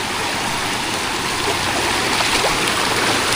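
Strong river current rushing steadily, a loud, dense wash of flowing water with no breaks and no voices.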